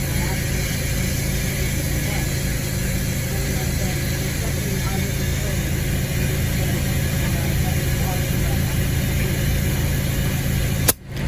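A Coleman Powermate air compressor fills a low tire with a steady, loud motor drone that runs continuously for about eleven seconds, then cuts off abruptly with a short clunk at the end.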